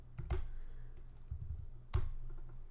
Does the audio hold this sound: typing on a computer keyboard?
yes